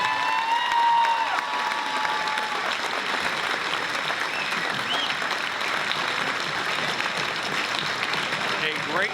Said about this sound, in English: Let's have a nice round of applause for Braden Foster